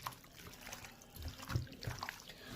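Hands squish and knead chicken pieces with whole onions in a dhania chicken curry marinade, giving faint, soft wet squelches and small liquid dribbles in an irregular rhythm, with no voices.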